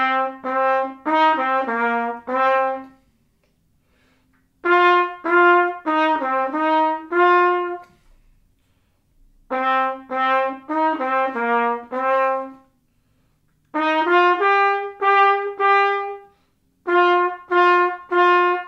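A bright trumpet plays short bursts of rapid staccato notes in a hard rock blues phrase, pausing briefly between repeated runs, with nothing else underneath.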